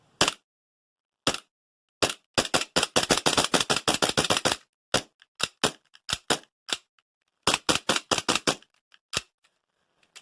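An airsoft Glock 17 gas blowback pistol fitted with a suppressor fires in a rapid string of sharp, close clacks, with bursts of quick shots broken by short pauses and no talking.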